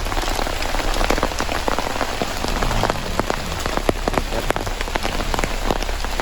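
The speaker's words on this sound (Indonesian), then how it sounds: "makin lebat aja nih kena hujan nih" Heavy rain pours steadily onto surfaces outdoors at a campsite, a dense, loud patter of drops with no pauses.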